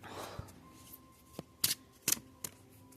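A deck of nature-themed oracle cards is handled quietly close by. Several crisp riffling and sliding bursts sound over faint background music with a steady tone, and there is no speech.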